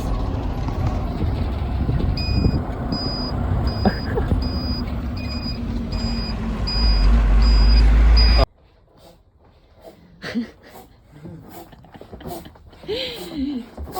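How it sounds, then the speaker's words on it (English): Steady stream of road traffic passing near the Lincolnshire Show, a continuous loud rumble with a vehicle's reversing beeps repeating for several seconds, then cutting to quieter outdoor ambience with faint voices. "A nice stream of traffic at Ragnar behind us."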